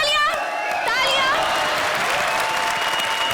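Loud studio audience applause and crowd noise on the Hindi TV comedy show Comedy Circus. It is continuous and close, with tonal voices or music rising over the clapping in the first second or so.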